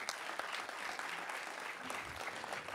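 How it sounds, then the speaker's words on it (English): A seated audience at an evening panel discussion applauding themselves: brisk, dense clapping that stays even and fairly soft, without voices over it. "Give yourselves a round of applause for being here."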